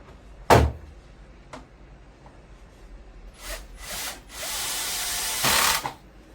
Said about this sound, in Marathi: सगळे स्क्रू टाईट करून घेतोय.